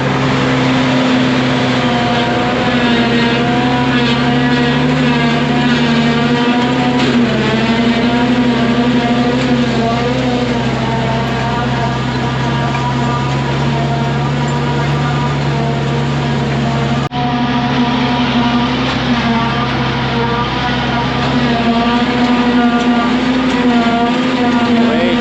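A tractor running a forage chopper to cut heifer feed gives a steady, loud, continuous engine drone with a mechanical hum, unbroken for the whole stretch and with no voices.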